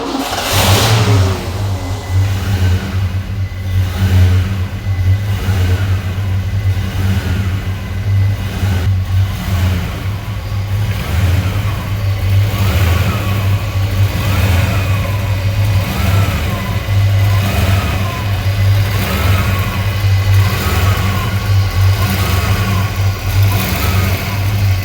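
A 1990 Ford Mustang Foxbody's engine runs steadily with a deep low rumble throughout, periodically revved up and settling back, close and loud, with no talking.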